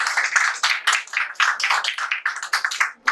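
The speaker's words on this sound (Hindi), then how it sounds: "इस बच्चे के लिए स्पेशल तालियां" Clapping from an audience at a national youth convention in Pakistan, a short run of distinct, closely spaced claps that sound fairly sparse rather than a full roar.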